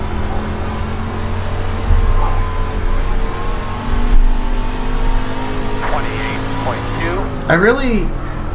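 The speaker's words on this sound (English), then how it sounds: "getting around this really tough dirt track with this really heavy monster of a car" A heavy race car engine drones steadily on a dirt oval track in a racing video game, revving up near the end, with someone talking over it throughout.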